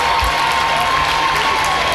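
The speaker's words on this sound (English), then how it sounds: "Lancaster cheering, the Wildcats fans too, cheering on their team" Lancaster and Wildcats fans at a high school basketball game cheer and applaud, a dense, loud wash of clapping and crowd noise that fills the gym throughout.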